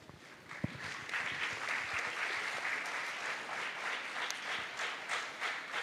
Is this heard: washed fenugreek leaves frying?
no